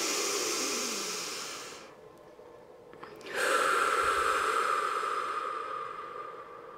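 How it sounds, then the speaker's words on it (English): A long, slow inhale through the nose followed by an audible exhale out through the mouth, soft airy hissing close to the microphone with a brief pause between, in a quiet cottage kitchen. "Just a long, deep breath in your nose, and then exhale it out your mouth"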